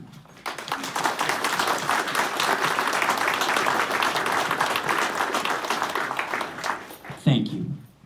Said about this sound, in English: if you will all please join me in a round of applause